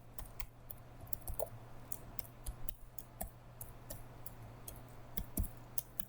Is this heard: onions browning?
no